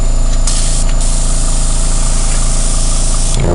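Badger airbrush blowing Vallejo primer through the tip to clear a clog, giving a loud continuous hiss with brief surges, set against a steady humming compressor, no talking.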